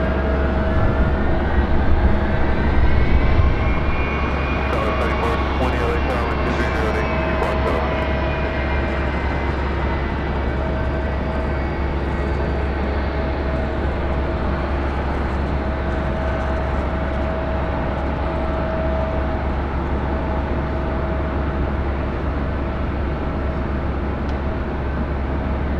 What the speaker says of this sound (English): Number 2 for takeoff here on 24 left is Flair Airlines Flight 1889 heading to Vancouver,